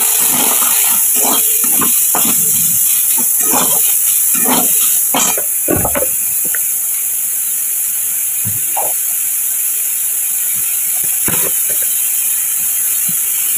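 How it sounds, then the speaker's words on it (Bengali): Chopped onion hits hot oil already holding bay leaf, two cardamom pods, cinnamon and three cloves, giving a loud, steady sizzling hiss with scattered crackles and pops that settles into a continuous fry. "এবার দিলাম এই পেঁয়াজ কুচিটা"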